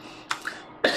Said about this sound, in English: Burping and coughing at the beginning of the video.